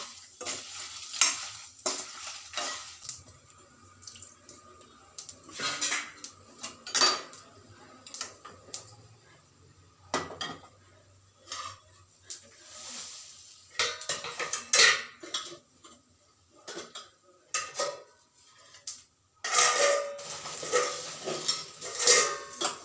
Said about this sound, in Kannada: ಸ್ವಲ್ಪ ಸಣ್ಣ ಉರಿನಲ್ಲಿ ನಿಧಾನಕ್ಕೆ ಈ ಥರ ಹುರಿಬೇಕು